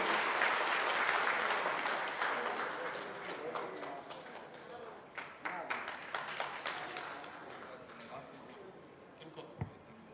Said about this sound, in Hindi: इनके नाम पर ताली बजाइए।